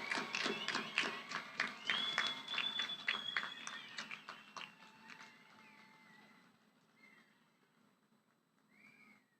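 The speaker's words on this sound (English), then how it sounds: "one final round of applause for our graduates" Audience applause at a college commencement ceremony, dense and lively at first with scattered whoops, then thinning and fading to light scattered claps and faint distant voices.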